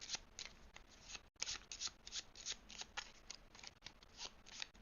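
A deck of game cards is shuffled during a solo board game, giving a quick run of crisp riffling bursts close to the microphone with a brief pause partway through.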